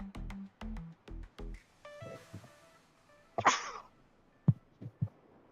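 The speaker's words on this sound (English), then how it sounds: "Oh, I'm gonna sneeze." A person sneezes close to the microphone in a few short, sharp bursts, with softer breathy sounds and faint clicks in between.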